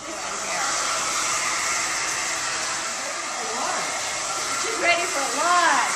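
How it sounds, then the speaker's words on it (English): A hair dryer roars steadily and close while blow drying long, layered hair. A voice speaks briefly beneath the airflow near the end. "Now we're gonna blow dry her and this in here."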